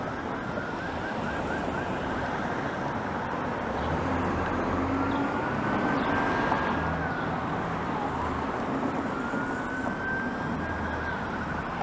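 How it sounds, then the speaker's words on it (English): Faint emergency sirens wail in the distance over a steady wash of city traffic noise on King Street in Toronto, heard from a moving scooter, rising and falling slowly. "Seems to be a lot of flashing lights and sirens up ahead"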